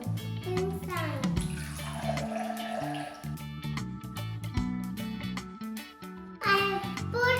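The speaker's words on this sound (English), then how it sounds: "I have put the water in the glass" Water pours into a glass for a floating-egg science demonstration, a close splashing trickle that runs in bursts while a voice speaks over it.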